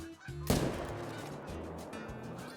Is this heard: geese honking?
yes